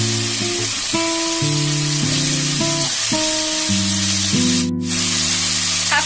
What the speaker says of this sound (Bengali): আলুটা দিয়ে দিয়েছি ভাজার জন্য।